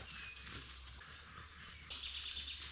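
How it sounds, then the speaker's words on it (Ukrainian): Faint, distant birdsong and chirps in a sunny forest near the Dniester river, scattered calls over a soft steady background hush with no talking. "Птахи співають."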